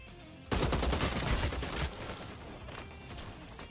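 Rapid automatic gunfire erupts in Vampire: The Masquerade - Bloodhunt, a loud sustained burst of close shots lasting over a second, then continuing more sparsely and faintly with lingering echoes.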